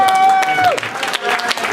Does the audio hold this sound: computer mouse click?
no